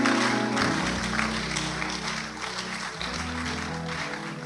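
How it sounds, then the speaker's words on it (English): Church congregation at a Christmas convention evening service clapping together, a steady dense wash of hands with organ-like sustained tones underneath, continuous and fairly loud throughout. "Give a mighty clap offering to the glory of the name of the Lord"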